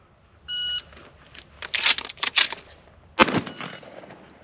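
An electronic shot timer beep sounds, then a burst of loud rapid shots follows during shotgun live-fire practice, with one sharp shotgun blast near the end.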